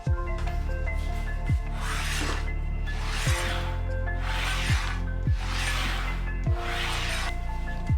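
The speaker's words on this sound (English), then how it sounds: "I polish it using wax." Wax being rubbed along a DIY track saw guide made from HMR board, a steady close rasping rub that continues throughout with regular low thumps as the stroke changes direction, no talking.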